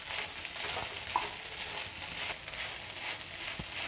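Sabudana khichdi sautéing in a pan for a fasting meal, giving a faint, steady sizzle and frying crackle with soft stirring scrapes, no voices.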